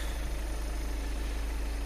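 A 2015 Volkswagen Touran 2.0 TDI diesel, 140 hp with DSG gearbox, idling steadily with a low, even rumble that continues unbroken and untouched by any voices.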